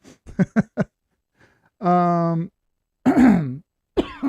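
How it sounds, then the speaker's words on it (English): A man coughs a few short times, then clears his throat in a long rasping rumble followed by another gravelly clearing, close and loud with pauses in between. "I've been coughing a lot"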